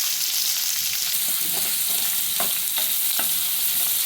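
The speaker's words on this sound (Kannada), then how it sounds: "ಇವಾಗೆಲ್ಲ ಇದು ಚೆನ್ನಾಗಿ ಈರುಳ್ಳಿ ಫ್ರೈ ಆಗಲಿ" Onions frying in a pan until reddish, with a steady close sizzle and a few distinct stirring scrapes of the spatula rising over the hiss.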